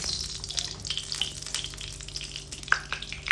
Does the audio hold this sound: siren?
no